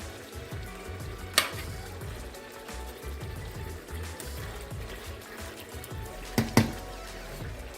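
Jamaican-style oxtail stew sizzles low and steady in a pot while being stirred to coat the meat, with a couple of sharp clinks of the spoon against the pot standing out.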